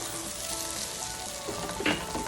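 Bacon jam with brown sugar sizzles and fries steadily in a pan, a continuous bright crackle with a brief stir near the end and no talk.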